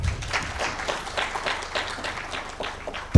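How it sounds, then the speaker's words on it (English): An audience at a digital trade dialogue gives a round of applause, moderately loud rhythmic clapping lasting a few seconds, with a bump at the very end. "A better round of applause."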